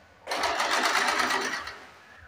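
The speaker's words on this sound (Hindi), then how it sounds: "यहाँ से सीधी सिलाई लगा देंगे।" Sewing machine stitching a blouse, a close, steady whirring run of rapid needle strokes lasting about a second and a half before slowing to a stop, with no talk over it.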